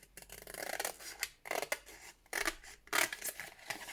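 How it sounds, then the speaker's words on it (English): Scissors cutting through household cardboard box material, a series of close rasping snips and rubbing strokes in irregular bursts, with no talking. "Cut up this side like we have been doing."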